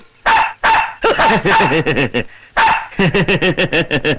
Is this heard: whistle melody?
no